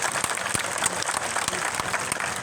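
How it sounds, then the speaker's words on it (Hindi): Hall audience at a Buddhist conference in Gorakhpur applauding to welcome someone, a dense continuous wash of clapping with a few sharper individual claps standing out, steady throughout. "उनके लिए एक बार ताली बजा के स्वागत कीजिए"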